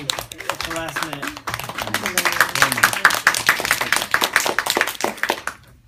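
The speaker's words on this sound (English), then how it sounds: "Let's give Tony an extra round of applause" An audience at a Toastmasters meeting claps for a speaker, a dense patter of hands running throughout with a voice talking loudly over it.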